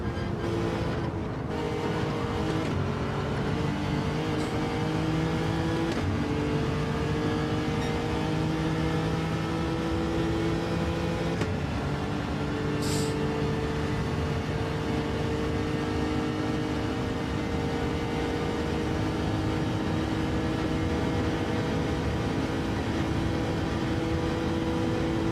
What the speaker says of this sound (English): Sometimes you don't need my face, but engine sound, you need it